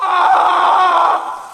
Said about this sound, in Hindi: किसी आदमी के चीखने की आवाजें आनी शुरू हो गई